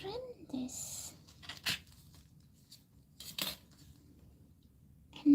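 Scissors trimming a polymer clay cane, a few short, crisp snips spaced apart over a quiet room, close and soft.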